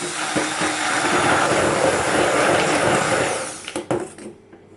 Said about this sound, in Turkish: Kabakları blenderdan geçiriyorum.